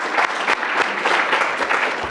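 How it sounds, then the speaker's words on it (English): Audience at a university cleantech prize final pitch competition gives a sustained round of applause, dense steady clapping that fills the room without voices. "a huge round of applause for all 7 teams who really, again, stood up and did a great job tonight"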